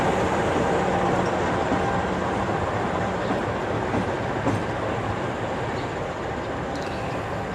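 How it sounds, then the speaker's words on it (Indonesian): A CC206 diesel locomotive rumbles steadily as it rolls out of a depot, a dense continuous engine drone with faint rail clatter and no voices. "Ada satu lokomotif CC206 atau Puong yang meluncur dari depo lokomotif"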